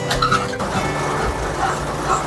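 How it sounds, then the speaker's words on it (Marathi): Road traffic outside an MSRTC state transport bus, a steady engine rumble with passing vehicles and a brief horn-like tone, heard from inside the cabin. "पुन्हा ट्रॅफिक लागले मित्रांनो."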